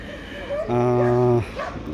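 A dog at a dog market gives a single drawn-out yelping bark or whine lasting under a second, close, with a voice talking around it.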